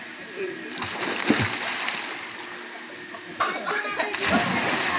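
People splash and wade in a clear freshwater stream at Cambuhawe, Balamban, Cebu, sharp splashes over a steady flowing-water wash, with voices talking nearby.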